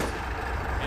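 A military vehicle in the video game Combat Mission Shock Force gives off a brief, steady engine rumble at moderate level, heard alone.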